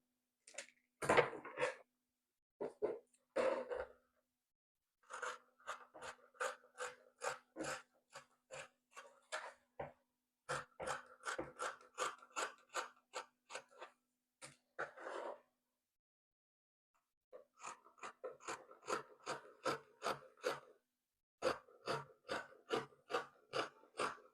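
Scissors cutting out fabric for a round-neck tank top, a close series of rapid, rhythmic snipping clicks in bursts separated by brief pauses.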